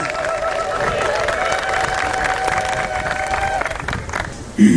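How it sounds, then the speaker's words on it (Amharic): Guests at a wedding ceremony in San Diego, California ululate and applaud: a sustained high warbling trill rides over dense, steady crowd clapping for several seconds, then fades before a final loud thump. "እስኪ ሞቅ ያለ እልልታና ጭብጨባ ለእግዚአብሔር ክብር ይገባዋል።"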